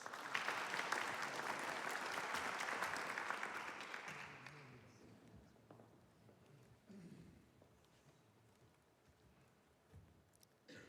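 A crowd applauds warmly for a few seconds at a talk on planetary health and mental health, the clapping then fading out into quiet room noise with faint shuffling.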